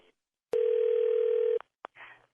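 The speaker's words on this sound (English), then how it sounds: "Okay, it's ringing." A telephone call's ringing tone sounds as one steady, loud electronic tone for about a second, followed by a couple of brief clicks and faint line noise.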